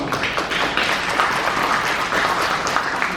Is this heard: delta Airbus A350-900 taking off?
no